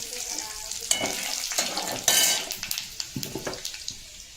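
Dried chili, a bay leaf and cumin seeds sputter in hot oil, a close crackling sizzle punctuated by spoon scrapes and a rhythmic series of taps toward the end.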